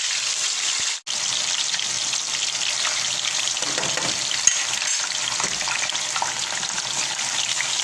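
Rice dropped into hot oil for Mexican red rice sizzles loudly and steadily, a close, continuous crackling hiss broken by a brief gap near the start and a light clink of the pan.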